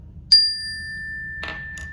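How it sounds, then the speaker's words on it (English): A single bright bell ding rings out as a quiz cue in a children's math pattern lesson, a clear struck tone with a long sustained ring that fades over about a second, followed by faint rustling. "There's your bell."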